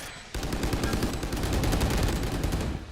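Rapid gunfire in the competitive shooter Valorant during a Fnatic vs FUT Sports esports match, a dense burst of repeated shots starting abruptly and sustained loud and close for several seconds, with no talk.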